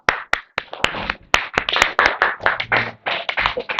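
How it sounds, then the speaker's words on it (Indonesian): A classroom group claps after a student presentation, a loud, irregular burst of hand claps from several people that runs for a few seconds and then tapers off. "Tepuk tangan."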